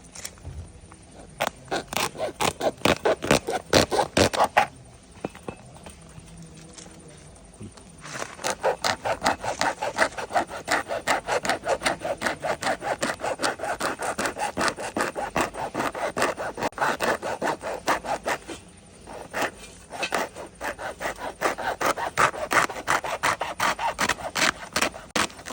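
A football is sawn into two pieces in a sports shop, giving a long run of rapid rasping strokes, loud and close, that pause briefly twice before carrying on.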